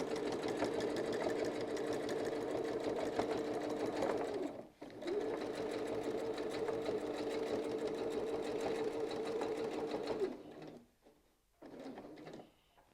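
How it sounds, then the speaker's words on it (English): Sewing machine stitching a rotating mandala quilting pattern, a fast steady mechanical whir with a brief pause midway, then stopping near the end, followed by a few faint clicks. "So let's stitch that."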